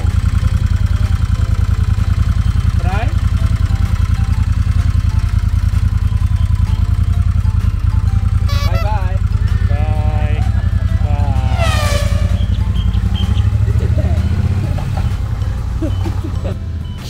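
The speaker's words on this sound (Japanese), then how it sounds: "来て早速バイクに乗るっていうね。" A BMW motorcycle engine runs loud and steady at close range throughout, with a low rumbling drone and some high tonal sweeps and chirps partway through.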